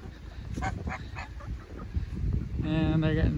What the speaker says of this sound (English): Here's the chicken coop.